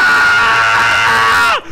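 A human voice imitates a screaming chihuahua with one sustained, loud, shrill scream close to the microphone that breaks off abruptly at the end.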